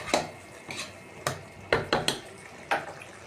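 Eggplant and ground pork are stirred in a pan for adobong talong. A utensil scrapes and clanks against the pan in about seven short, irregular knocks, close and moderately loud.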